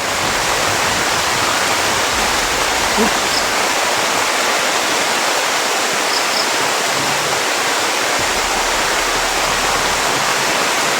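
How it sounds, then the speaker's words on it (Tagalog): A loud, constant roar of heavy rain fills the whole stretch, steady and dense with no pauses. "Parang malakas na yata ang ulan"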